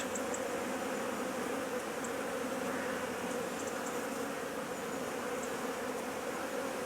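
Honey bees buzzing steadily around an opened hive as brood is removed, a continuous close insect drone with a few brief higher buzzes passing by.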